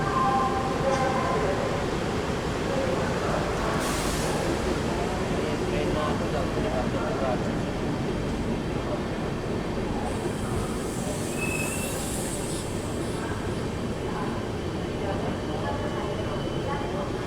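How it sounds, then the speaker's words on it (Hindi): New Delhi–Amritsar Shatabdi Express passes through Jalandhar Cantt station, heard from on board as a loud, continuous rumble of wheels on track with squeals and rattling carriages, while someone talks over it. "गाड़ी स्किप कर रही है जालंधर कैंट रेलवे"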